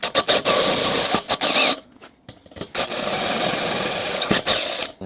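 A power drill with a step bit enlarges a hole in a Weber kettle grill lid, with loud gritty bursts of drilling broken by a short pause before it runs again.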